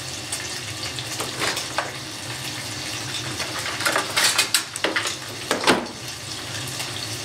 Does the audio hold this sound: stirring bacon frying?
yes